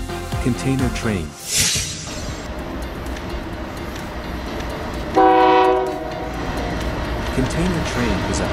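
A container train rumbles past with a steady roar, a burst of wind noise, and a brief horn blast midway through.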